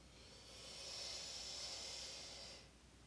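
One long, deep breath drawn in during a stretching routine swells into a close, airy hiss, holds for about two seconds, then fades away quietly.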